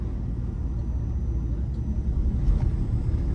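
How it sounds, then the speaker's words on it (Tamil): Ford Endeavour 3.0 litre SUV accelerating in third gear to overtake: a steady, heavy low engine and road rumble heard from inside the cabin, building slightly toward the end, with no speech. "நம்ம ஒரு ஓவர்டேக் எடுப்போம் 3rd கியரில்"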